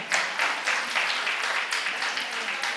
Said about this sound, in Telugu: చప్పలు కొడాల